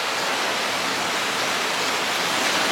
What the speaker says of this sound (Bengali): এখন তার থেকে আরও বৃষ্টিটা বেড়ে গেছে